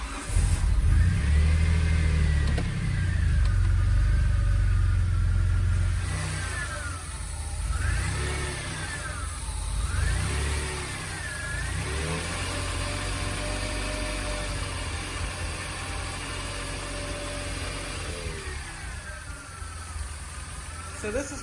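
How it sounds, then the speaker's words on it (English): A DeLorean engine sounds up close, revving under gradual throttle and then settling into an uneven idle with a slight stumble, while someone talks over the running motor. "If I just gradually give it gas, that's my idle. And it just has like a little stumble to it."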